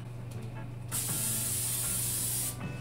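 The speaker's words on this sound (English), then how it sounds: "Spray it over the sink." Cooking spray hissed onto a baking pan held over the sink while making cheesecake crescent rolls: a single close, steady spray burst lasting about a second and a half, with quiet handling sounds before and after.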